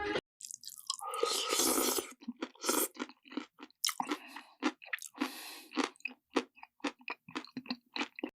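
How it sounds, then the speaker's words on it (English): Loud, close crunching and squishy chewing of undercooked spaghetti, as if eaten by an AI-generated figure, in rapid uneven bites with short gaps between them. "hearing crunching noises like as if he's eating undercooked spaghetti"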